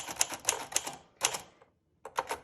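Quick bursts of typewriter key strikes on a 1928 Royal portable typewriter, a rapid clacking run, a brief pause, then another short flurry of keys.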